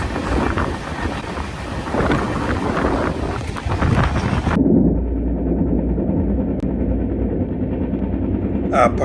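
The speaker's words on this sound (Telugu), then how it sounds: "ఫారెస్ట్లో నుంచి వెళ్తూ ఉంది ట్రైన్" The Nagavali Express runs through forest with a loud, steady rumble and rushing wind noise that drops abruptly to a quieter, muffled roar partway through.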